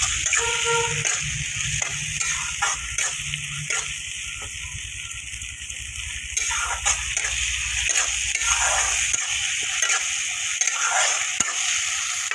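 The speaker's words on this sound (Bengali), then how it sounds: "নাড়াচাড়া করে কষিয়ে নিতে হবে।" Green chilli, salt, turmeric and tempering spices sizzle in a pan for an okra mustard paturi, a continuous hiss broken by repeated scraping and knocking as the mix is stirred and turned.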